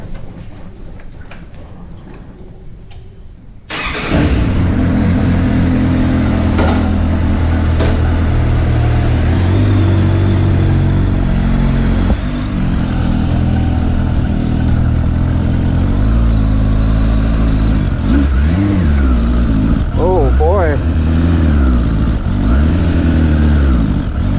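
A warmed-up Suzuki GSF600 motorcycle engine starts loud after a short quiet lead-in, idling steadily and then blipping the throttle in several quick revs that rise and fall near the end, close and continuous with no talking.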